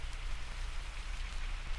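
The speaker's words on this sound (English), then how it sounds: "It was raining hard" Heavy rain falling as a spooky story's sound effect, a dense steady hiss of drops with low rumble beneath, fairly quiet and continuous for a couple of seconds.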